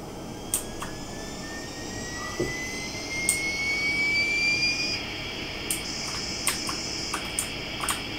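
Jet aircraft engine in a retro video game, a steady rising whine that swells and fades over several seconds, with faint clicks and a low background hum.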